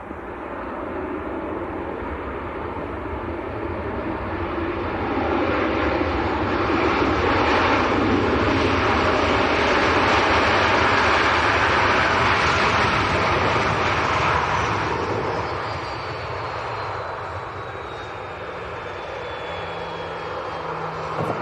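A Ryanair airliner at Leeds Bradford Airport, a broad roaring engine rush that swells to a peak in the middle and then eases off while staying loud and continuous throughout.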